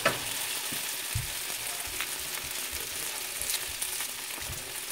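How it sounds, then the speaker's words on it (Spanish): Sliced potatoes sauté in a frying pan, giving a steady, close sizzle broken by a few soft knocks and stirring sounds, with no voices. "Ahora esperar que se sofríe un poquito."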